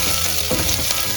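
Onion sizzles steadily in a hot pan as a sautéed base for Filipino almondigas meatball soup, a continuous close hiss with no break.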